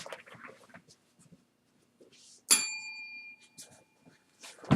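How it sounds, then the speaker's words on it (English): A desk bell is struck once in a classroom, giving a sharp, bright ring whose tone lingers for over a second before fading, with a second quick tap near the end. Faint scattered sounds and softer talk come before it. "I literally got out of my desk to go over and ring the bell"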